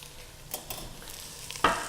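Meat roast searing in a preheated all-in-one cooker, a faint steady sizzle broken by a few scraping stirs and a sharper clatter near the end, with no voices.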